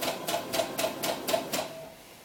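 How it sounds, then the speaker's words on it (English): A sewing machine runs a seam down the cuff of a doll's ball gown, giving six quick, evenly spaced mechanical bursts of stitching up close, then slowing to a stop. "so just put a seam down this cuff"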